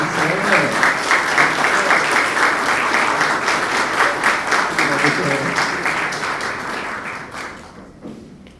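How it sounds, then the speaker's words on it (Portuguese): An auditorium audience at a Brazilian music concert gives loud, steady applause for a woman named Nilceia. The clapping is dense and sustained, then fades away toward the end. "uma salva de palmas para a Nilceia"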